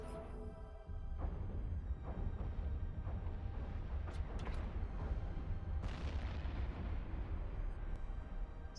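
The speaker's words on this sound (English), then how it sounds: "Such a pretty explosion." A spaceship explodes in the space game EVE Online, a deep, rumbling blast that rolls on for several seconds with scattered sharp crackles and bursts, loud and alone.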